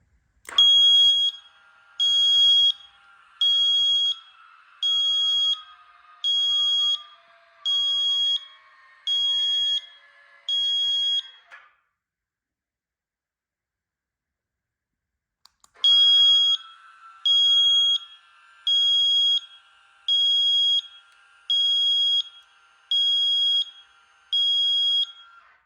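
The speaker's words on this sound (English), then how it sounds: "they actually have a signal, a beeper, that goes off when this thing's being activated on and off" A loud, shrill electronic beeper on a C7 Corvette parking brake fitted to a C2 Corvette split-window coupe sounds in repeated pulses as the brake activates, seven in a row, pauses for a few seconds, then resumes another seven-beat series.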